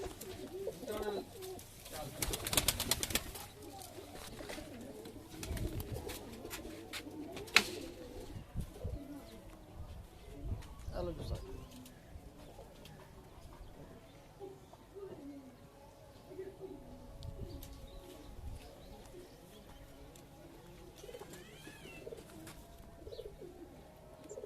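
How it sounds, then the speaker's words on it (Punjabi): Old-breed pirchu pigeons coo softly and repeatedly at close range, under steady conversation and scattered background noise, with a louder burst of activity near the start. "ਇਹ ਸਾਡਾ ਪਿਰਚੂ ਕਬੂਤਰ ਹੈ ਜੀ।"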